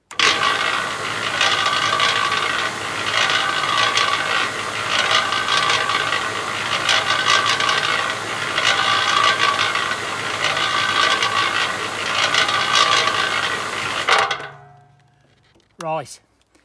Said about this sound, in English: I want to see how many amps this uh, cement mixer draws